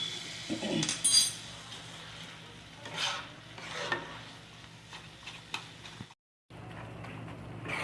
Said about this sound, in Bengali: মশলা দিয়ে দিলাম, মশলাটা মিশিয়ে নিচ্ছি আমি